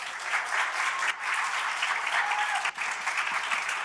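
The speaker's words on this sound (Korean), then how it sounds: "우리 오래간만에 조슈아 목사님 할렐루야 한번 박수를 한번 격려합시다." A church congregation applauds a visiting pastor at a missionary sending service, steady dense clapping from many hands filling the room for about four seconds with a brief dip midway.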